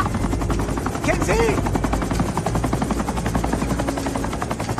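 A helicopter lifts off amid a firefight in a tense action scene, its rotor chop pulsing steadily and loudly throughout while rapid gunfire rattles alongside.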